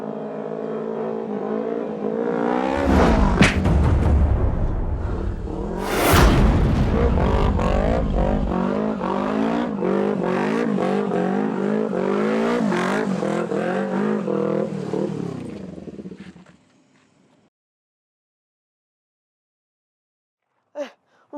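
A car engine hums and revs steadily at close range with shifting pitch, then cuts off into silence, followed by a brief faint sound near the end.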